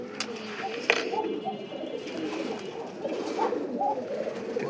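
A young Lotan pigeon with a swollen mouth sore coos in repeated low, murmuring bursts, close by, over a steady rustling background with a few sharp clicks.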